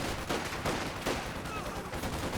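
Machine gun fire from the Company of Heroes 2 real-time strategy game, a few quick bursts rattling at moderate distance over a busy battle background.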